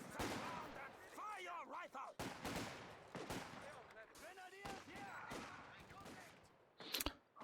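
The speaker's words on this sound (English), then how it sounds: "So there are 3 squads firing at the moment" Guns fired by several infantry squads in a war strategy video game, with sharp bursts and single shots scattered under a commentator's steady talk.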